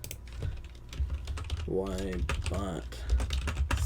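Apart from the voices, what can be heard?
typing on a computer keyboard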